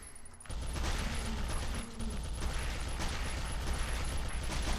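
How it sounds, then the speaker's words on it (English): Rapid continuous gunfire from an entrenched gun with unlimited ammo in the video game Zombie Shooter, a dense unbroken rattling barrage starting abruptly and holding loud to the end. "Basically what you have is an entrenched gun, and you just fire from the middle of the map."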